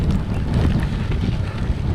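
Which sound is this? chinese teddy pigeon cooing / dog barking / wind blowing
wind blowing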